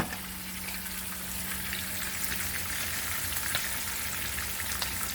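Red snapper pieces fry in hot oil in a pan, a steady, close crackle and sizzle with occasional pops and no talking.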